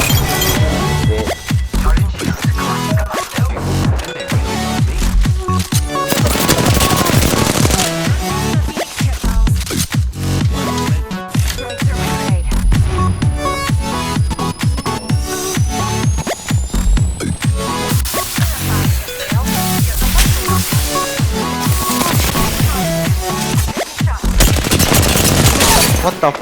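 Gunfire in the video game Apex Legends, loud and constant, with rapid bursts, single cracks and metallic clinks overlapping throughout a long, busy firefight.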